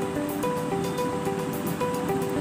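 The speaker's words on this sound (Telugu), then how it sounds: "రవ్వ బాయిల్ అవుతుంది" Broken wheat rava boiling in a pot, a steady bubbling simmer that stays close and even throughout, with no voices over it.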